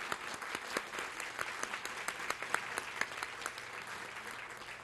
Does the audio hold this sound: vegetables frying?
no